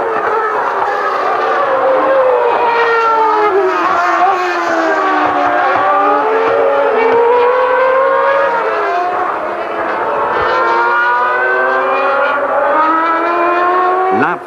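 Formula 1 race cars from 1994, Schumacher's Benetton and Hill, scream past with a loud, continuous high-revving engine whine that rises and falls in pitch as the cars shift gears and pass close by.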